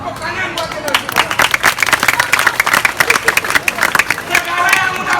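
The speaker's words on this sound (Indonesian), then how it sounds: "Tepuk tangan buat generasi muda." A crowd at a Balinese Calonarang temple performance applauds, loud uneven clapping with sharp individual claps, murmuring voices and crowd noise mixed in.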